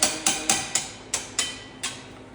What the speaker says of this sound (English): Also, turn the hammer on.